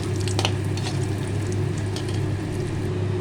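Lentil dumplings (bori) fry in hot oil in a wok with a loud, continuous sizzle and crackle, steady from start to finish with no voices.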